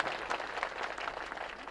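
Audience at an Ambedkar Jayanti rally claps together in a dense, steady burst of applause, close and loud, with no talk over it.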